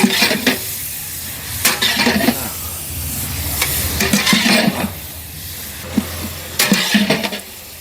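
Chicken with salt stirred in a hot pan, sizzling under repeated scraping and clinking strokes of a spoon against the metal, close and uneven, with no talk.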